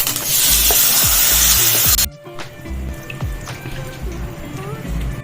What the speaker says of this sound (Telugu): ఇక పోపు అయితే పెట్టేసిన జీలకర్ర ఆవాలు ఎండుమిర్చి కరివేపాకు